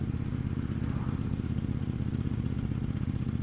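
A 2018 KTM Duke 790 motorcycle pulls away in sixth gear at low speed, its engine a loud, steady, lugging thrum with slight judder, close by and without talking.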